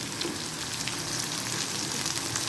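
Chicken frying with softened onions in a pan for smoked chicken, a constant dense sizzle heard up close with no talking.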